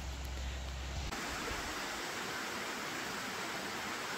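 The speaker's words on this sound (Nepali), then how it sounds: "सानो खोला बगे जस्तो छ तल होइन त्यसको आवाज हो" A small stream flows somewhere below a bridge in the hills, a steady, soft, even rush of water heard from a distance with no voices.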